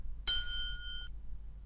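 A single electronic doorbell chime rings in The X-Files video game, a clean ding with sustained ringing tones that hold for nearly a second before cutting off, fairly faint against a quiet background hum.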